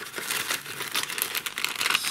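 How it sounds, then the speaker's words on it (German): Plastic bag of miniature parts from a Nightstalker Shadowhounds kit being opened, giving a steady, close crinkling and rustling of thin plastic with a few sharper tearing crackles, and no one talking. "Machen wir mal Tüte Nummer 1 auf."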